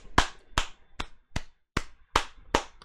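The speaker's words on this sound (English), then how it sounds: "let me stop clapping" Hands clap seven times at a steady, moderate pace, each sharp and close, with clear silence between claps and no music audible.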